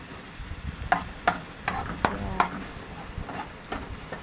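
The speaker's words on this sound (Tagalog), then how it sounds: "Ayan lang natin maluto ang alamang" Tiny alamang shrimp cooking in a pan, with a steady low sizzle broken by several sharp scraping clicks of stirring at an uneven pace, close up.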